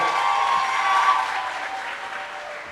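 An audience at a televised singing competition finale claps loudly in a sustained burst, dense and close, with a few crowd voices in the background.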